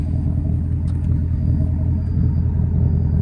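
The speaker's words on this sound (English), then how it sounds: "Exhaust sounds great." Ford Mustang GT idling with a deep, throbbing exhaust rumble, heard up close as a steady low pulsing burble throughout, with no talking.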